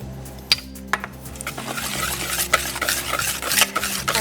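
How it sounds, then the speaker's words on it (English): Thick bungeoppang batter with oil added is stirred in a bowl, with close wet sloshing and a few sharp taps of the utensil against the bowl's side, steady and unbroken. "mixing my batter"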